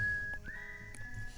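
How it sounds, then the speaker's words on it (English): A single gentle human whistle, soft and close, holding one tone and then sliding slightly upward in pitch before stopping. "To that gentle whistle."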